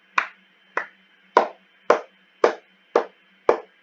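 Seven sharp hand claps at a steady, roughly half-second rhythm, close and loud against a faint background hum, with no talking.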